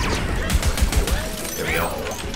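A rapid burst of pistol shots in the video game Tiny Tina's Wonderlands, a quick run of sharp reports under game effects and a talking voice.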